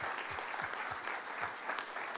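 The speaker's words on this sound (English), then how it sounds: "Let's give Sean a big round of applause" An audience at an entrepreneurship event applauds a speaker after his talk, a continuous crowd of clapping hands with a few louder individual claps standing out, moderately distant.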